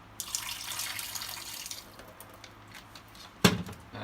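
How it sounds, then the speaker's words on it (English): Water splashes briefly out of a milk steamer into a sink, a soft pouring wash followed by a quieter pause and one sharper splash near the end. "just dump it out."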